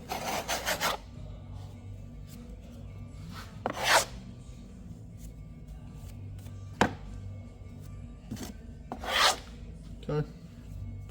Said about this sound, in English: See how I'm just wiping it